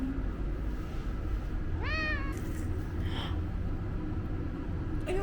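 A cat at a cat cafe gives one clear rising-and-falling meow partway through, followed by a fainter higher cry, over a steady background room hum with no speech.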